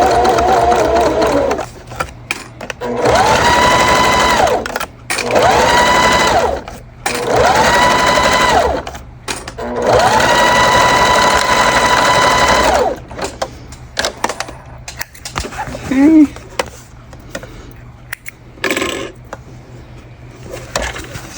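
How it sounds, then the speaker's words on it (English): A sewing machine stitching a fabric bag runs in several bursts of steady mechanical whirring, separated by short pauses and small handling sounds. "I sewed straight across by pushing it down."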